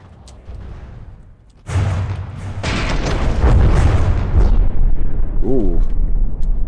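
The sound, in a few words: big explosion in the video game From the Depths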